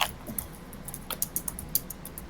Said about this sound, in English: It's a loud keyboard.